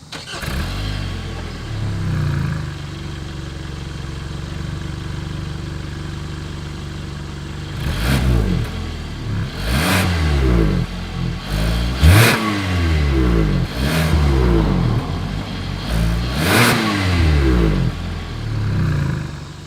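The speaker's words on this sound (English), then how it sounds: "As always, here is that exhaust clip." A 2021 Hyundai Tucson SUV's idling engine rumbles steadily, then the exhaust revs up repeatedly in loud rising bursts that fall back to idle, close by with no talking.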